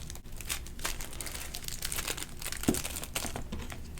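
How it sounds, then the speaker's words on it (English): A plastic cellophane bag holding a small handmade notepad is sealed with close, steady crinkling and rustling of the plastic, plus one soft snap partway through. "And then I can seal my bag."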